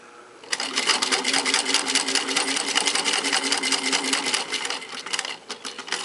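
A sewing machine stitches fabric for a patchwork star ornament in a fast, steady mechanical rattle that starts abruptly after a brief quiet moment and runs close and loud, slowing briefly near the end.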